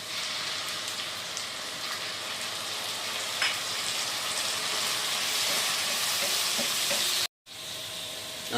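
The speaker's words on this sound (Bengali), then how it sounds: "আর এখন 4 থেকে 5 মিনিট টাইম নিয়ে আমরা পেঁয়াজটা ভালো করে একবার ভেজে নেব।" Onions frying in a pan with ginger, garlic and green chili paste, a steady loud sizzle running throughout with occasional stirring scrapes and a brief cut near the end.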